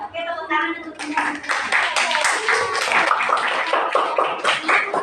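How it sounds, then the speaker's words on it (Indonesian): A class of students claps together in a classroom, bright quick hand claps rising into a sustained round after a brief voice at the start, with chatter mixed in. "Oke, tepuk tangan untuk kita."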